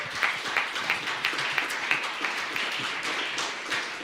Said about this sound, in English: Thank you to all of our guests. Round of applause.